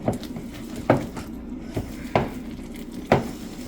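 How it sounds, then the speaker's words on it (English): A spatula working through pizza dough in a bowl, with four or five sharp scraping knocks against the bowl spaced about a second apart over a soft background of stirring. "I'm just going to take a spatula and we're going to mix this out really good"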